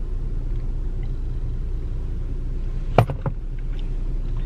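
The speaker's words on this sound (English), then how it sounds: "I'm actually driving" A car's cabin while it is driven, with a steady low road rumble throughout and a brief clatter of bumps near the middle.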